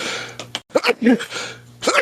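A sneeze bursts out close to a podcast microphone, a sharp loud explosive breath followed by a few gasping, throaty noises.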